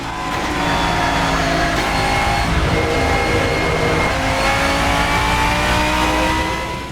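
A GT3 race car engine in the Assetto Corsa racing game roars steadily at high revs, with tones rising and falling through gear changes, loud and continuous and with no talk over it.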